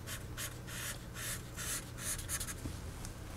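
Marker drawing on a whiteboard to mark a fire break through a sketched forest, giving repeated bursts of squeaky, scratchy strokes at close range, each lasting a fraction of a second, with a low steady hum underneath.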